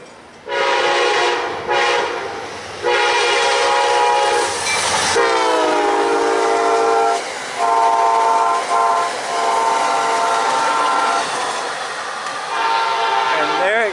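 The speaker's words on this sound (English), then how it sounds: "Alright, we got the Amtrak 89 southbound by Micro." An Amtrak passenger train rolls by close and loud, its horn sounding in repeated long blasts over the rumble and clatter of wheels on rails.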